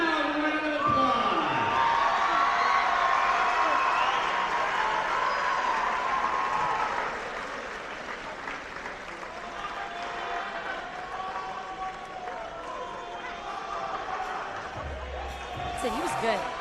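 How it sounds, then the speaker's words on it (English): Crowd applause and cheering fill a basketball arena to honor graduating players at a Saint Martin's men's game against Montana State Billings, loud and sustained for about seven seconds before easing into a lower crowd murmur. "Let's give them a loud round of applause."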